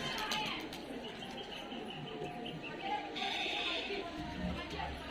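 Pigeons coo and flutter around a coop during flying time, soft bird calls mixed with wing movement over a busy background where voices can be heard.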